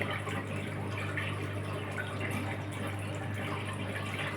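Steady rushing and trickling of water as a Haier washing machine drains during a self-clean cycle, continuous and moderately loud, with a low mechanical hum beneath it and no talking.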